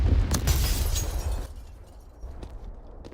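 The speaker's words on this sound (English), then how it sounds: "However, Polsky still managed to take some massive damage from that nade." A grenade detonates in the video game Counter-Strike with a loud, booming burst at the start, its rumble and debris tailing off over a few seconds, with a smaller pop near the end.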